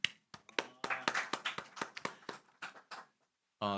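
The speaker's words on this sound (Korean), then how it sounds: "우리 그래서 하선이한테 좀 박수 격려하는 마음으로 박수 좀 쳐줄까요?" A church middle- and high-school youth group claps in encouragement for one member, a short run of sharp, fairly close handclaps in an uneven rhythm that thins out near the end, followed by a brief burst of speech.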